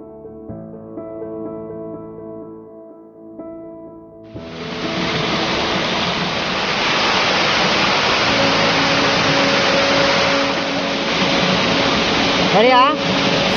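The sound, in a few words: Raikal waterfall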